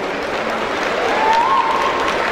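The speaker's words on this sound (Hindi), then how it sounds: "उन बच्चों के लिए जोरदार तालियां" An audience applauds students at a school award event, a loud dense wash of clapping that holds steady from start to finish.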